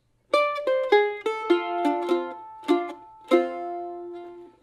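A mandolin plays the closing tag of a tune, a quick run of bright plucked notes with ringing harmonics, several sustained, played alone without talk.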